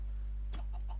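Video game chickens cluck in short, soft bursts near the end, sitting over a constant low electronic hum.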